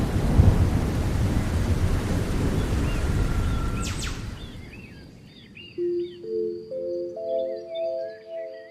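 Heavy rain pours in a loud, steady roar with a crack and rumble of thunder midway, then the downpour eases and bird calls and tonal chirps take over.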